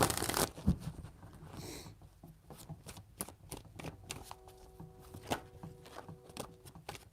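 Tarot cards are shuffled by hand in a rapid series of crisp riffling snaps and soft flutters, close and fairly quiet, with brief pauses between bursts.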